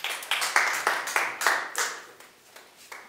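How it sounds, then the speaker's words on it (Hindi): A small classroom group claps for a student in a lesson, a handful of uneven, rhythmic bursts of hand claps, close and fairly quiet, fading near the end. "अब ताली बजाएं इनके लिए"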